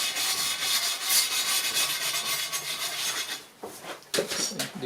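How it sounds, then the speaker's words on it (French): Wire brush scrubbing around a tire bead on a wheel fitted with a TPMS sensor, rapid rasping scratchy strokes in an uneven rhythm, close and moderately loud with short pauses near the end. "un petit coup de brosse métallique tout autour"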